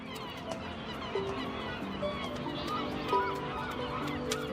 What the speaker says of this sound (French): Les jeunes goélands argentés attendent impatiemment leur pitance.